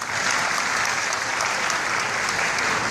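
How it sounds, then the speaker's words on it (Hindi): An audience claps at a talk, dense even applause that holds steady and fairly loud for a few seconds. "ताली हो जाना चाहिए"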